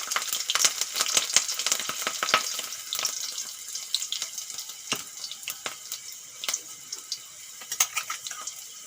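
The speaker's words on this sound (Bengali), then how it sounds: "তেল গরম হয়ে গেছে ফোড়নে দিয়ে দেবো কালো জিরে আর কাঁচা লঙ্কা" Nigella seeds and green chillies crackle and sizzle in hot oil for tempering, a dense stream of sharp pops and spits over a bright frying hiss, fairly close and lively throughout.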